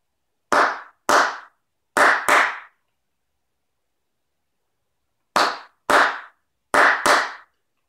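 Hands clap a rhythm for an ear-training exercise, sharp isolated claps in groups: two, then a quick pair, a long pause, then two more and a final quick pair, crisp and close.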